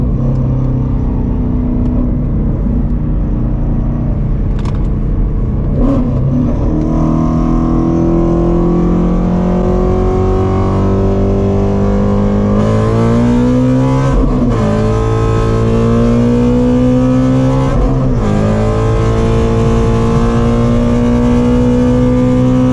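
A 520 hp Ford Shelby GT350 Mustang engine revving through a hard pull, a loud, steady droning roar that climbs gradually with a few abrupt shifts, heard up close and alone.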